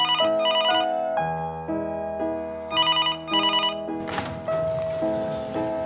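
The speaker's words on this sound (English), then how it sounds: "later that evening when the phone rang." A telephone rings with a repeating electronic ringtone melody, loud and close, several ring bursts in succession before a noisy shuffle near the end.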